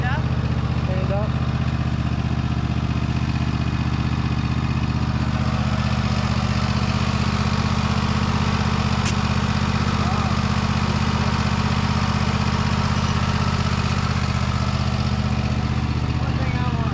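A Toro TimeCutter 60-inch zero-turn riding mower from 2023 with a Kohler engine idles steadily and loudly the whole time, a constant low drone with no change in pitch.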